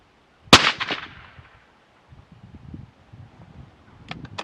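A single sharp shot from a .204 rifle at a shooting range cracks loudly near the start, its echo trailing off, followed by faint handling and rustling noises and a few soft clicks near the end.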